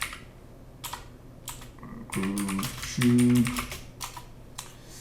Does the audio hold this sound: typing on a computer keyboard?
yes